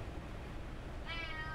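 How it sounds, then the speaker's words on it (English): A domestic cat gives a single clear meow near the end, preceded by a steady background hum with no other sound. "Have you by any chance lost your cat?"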